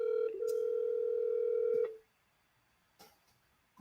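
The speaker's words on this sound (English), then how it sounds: "I'm about to call it real quick." A steady telephone tone sounds for about two seconds and then cuts off, followed by a couple of faint clicks as a phone call is placed.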